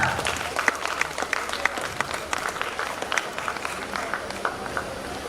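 An audience at a university golden jubilee celebration gives a dense, steady round of applause after a dance performance, with many hands clapping at once for several seconds.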